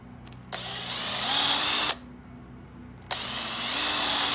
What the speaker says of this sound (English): So we're gonna get all these pre-drilled